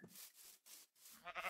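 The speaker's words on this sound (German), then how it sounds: "Ey, da unten sind Schafe." Sheep in the Minecraft video game bleat in a few short, faint bursts, separated by brief gaps.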